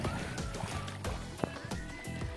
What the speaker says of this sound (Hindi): ये बाढ़ का पानी है, और कितना देखो कितना फोर्स मार रहा है यहाँ पे